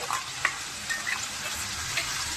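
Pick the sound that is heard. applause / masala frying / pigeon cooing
masala frying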